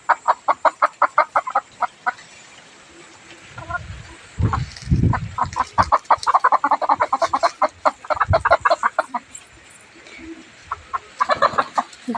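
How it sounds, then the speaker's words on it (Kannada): Chickens cluck in rapid, rhythmic bursts close by, loud and repeated throughout, with a few deeper thumps and rustles in between and no talking. "ನಮ್ಮ ಕೋಳಿಗಳಿಗೆ ಭಯನೇ ಇಲ್ಲ."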